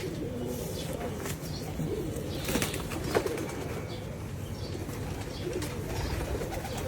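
Pigeons coo softly and repeatedly nearby, with a brief flutter of wings and faint background noise.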